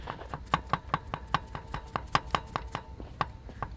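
Metal part inside a 2001 Mitsubishi Montero Limited 3.5 engine knocking against a bottom metal piece, a fast, steady run of sharp ticking knocks, close and fairly quiet, with no talk.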